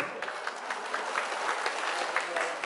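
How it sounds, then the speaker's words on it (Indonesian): Indonesian civil servants (ASN Parimo) applaud at a training session, a steady wash of many hands clapping that carries evenly through the room with no speech over it. "Tepuk tangan dulu."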